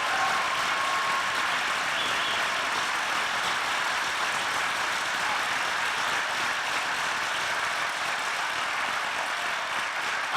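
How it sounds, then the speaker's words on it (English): A large political rally crowd applauds loudly and continuously, a thick unbroken wash of clapping and cheering that holds at full strength from start to finish. "I thank you for that, but don't clap all my time away."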